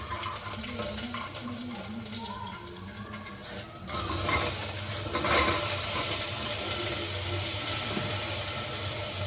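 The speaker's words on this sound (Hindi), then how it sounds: "हरी मिर्च और जीरे का देसी घी का तड़का।" Green chillies and cumin are being tempered in desi ghee: a steady, close hiss of sizzling fat that swells louder partway through and then holds as continuous frying noise.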